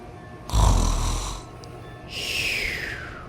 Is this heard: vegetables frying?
no